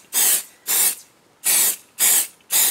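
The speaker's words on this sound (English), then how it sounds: "I'm going to spray everything on my desk." Five short bursts of Pixie Spray mist hiss from a spray bottle over watercolor stencils, each puff close and crisp with brief pauses between, no talking.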